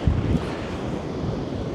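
A southwesterly coastal wind buffets the microphone on a Northumberland shore at dusk during cod fishing, a steady low rushing roar with gusty rumbles, alone and close.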